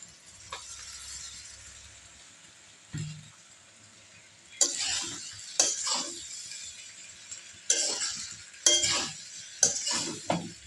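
Boiled rice tossed in a pan with ghee and a little oil for fried rice, giving intermittent scraping stirs and soft sizzle bursts between quiet pauses, close by.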